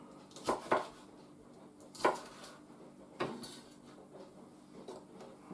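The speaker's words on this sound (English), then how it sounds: "let's just slice some jalapeno" A knife slices jalapeno on a cutting board for a vegetable pickle, giving a few sharp, faint knocks spaced apart against quiet room tone.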